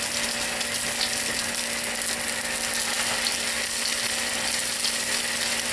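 Potato cake batter fries in an oiled skillet with a steady, even sizzle and crackle that holds at a constant level from start to finish, with no talking.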